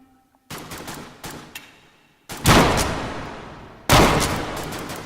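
Video game gunfire comes in several loud, close bursts: a rapid volley, a pause, then two heavier sustained rounds of shots with echoing tails in between, with no talking.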